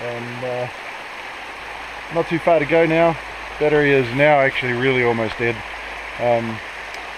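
A small tributary stream runs through New Zealand's Tararua Ranges with a steady, close, hissing flow, while someone talks over the water in several short phrases.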